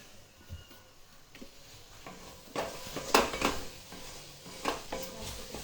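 Paneer bhurji being stirred and fried in a pan gives soft scraping and clinking of a spoon against metal, with irregular louder knocks over a faint sizzle, close and quiet.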